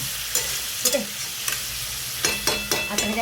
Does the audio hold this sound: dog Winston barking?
no